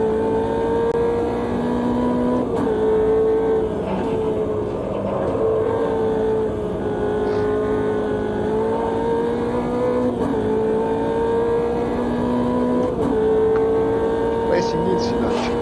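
A racing car engine in a video game drones steadily at high revs throughout, pitch rising and dipping with gear changes, close and loud, with a voice speaking over it at times.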